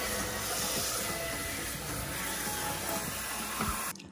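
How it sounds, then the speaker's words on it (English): Napa cabbage for kimchi is rinsed under a running tap in a mixing bowl of water, a continuous close splashing and hiss that ends abruptly as the water stops. "We can now rinse our veggies."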